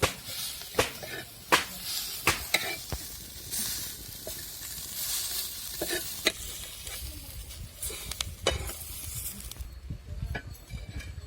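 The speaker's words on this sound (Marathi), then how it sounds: "आपला कांदा आणि मिरची ते पण भाजत आली होती" Onion and chilli roasting in a kadhai on a wood-fired chulha, giving a steady crackling sizzle broken by sharp clinks and scrapes of a spoon stirring against the pan, close and loud with no talk.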